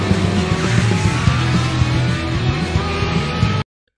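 A motorcycle tears away in a film chase scene, its engine roaring loud and continuous with squealing tires. The sound cuts off abruptly just before the end.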